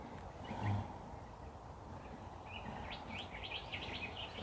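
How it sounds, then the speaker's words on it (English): Assorted birds call in the Australian bush, with faint, distant chirps and tweets scattered over a steady outdoor hiss, growing a little busier toward the end. "Can everyone hear all the different birds and everything clearly?"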